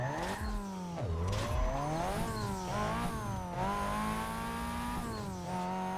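A Nissan 240SX in Need for Speed Carbon drifts with a loud, wavering engine note rising and falling through revs, tires squealing and skidding alongside, continuous and close.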